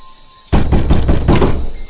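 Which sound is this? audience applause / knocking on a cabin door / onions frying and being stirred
knocking on a cabin door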